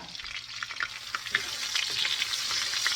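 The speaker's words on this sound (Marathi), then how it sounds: "आता बटर आणि ऑइल गरम झाल्यावर मी हिंग घातला, नंतर आलं लसणाची पेस्ट घातली आहे." Asafoetida and ginger-garlic paste hit hot butter and oil for pav bhaji, crackling into a bright sizzle that builds steadily, with light stirring taps near the pan.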